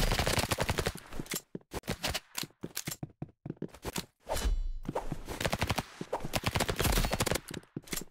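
Video game weapon firing in loud, rapid bursts of gunfire, clustered shots broken by short pauses, close and dominant with no talk.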